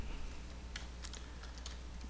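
Fingers tap on a computer keyboard, producing a handful of quick, faint, irregular keystroke clicks over a steady background hiss.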